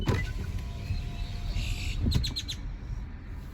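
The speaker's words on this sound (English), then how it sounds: "Listen to the birds." Faint bird chirps and tweets come from a distance over low outdoor rumble, with a quick cluster of bright chirps near the end.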